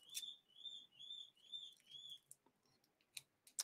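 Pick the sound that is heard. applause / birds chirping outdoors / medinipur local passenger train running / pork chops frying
birds chirping outdoors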